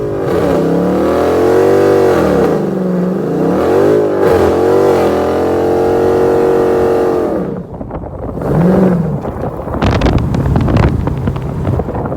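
A car on new Nitto 555R tires does a burnout at a large car meet, its engine revving loud and close in rising and falling surges over heavy microphone wind noise.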